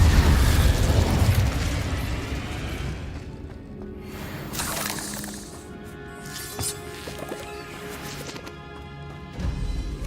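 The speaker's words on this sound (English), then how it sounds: "Incendio!" Fire spell blast in Hogwarts Legacy: a heavy booming burst at the start fading into a roaring, crackling rumble with scattered smaller pops and impacts over ten seconds, no talk.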